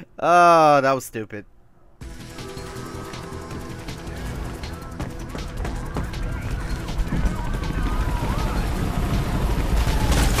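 Rapid gunfire rattles on without pause in the video game Mirror's Edge, a dense, steady volley that follows a man's short exclamation.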